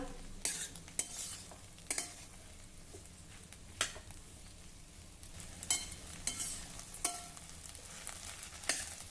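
Okra with spices and fresh coriander being stir-fried in a pan: a soft background sizzle punctuated by repeated scraping strokes of a spatula at an uneven rhythm, close and fairly quiet, without speech.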